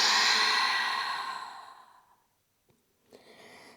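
Long breath exhaled through an open mouth, a loud, close, airy sigh that fades out over about two seconds, followed by near silence and then soft breathing.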